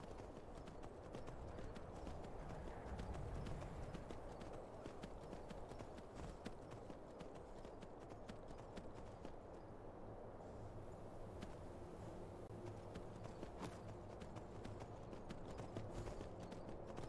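Horse hooves clip-clop steadily in Skyrim, a continuous run of close, even hoofbeats layered under a dense, busy game soundscape with low rumble throughout.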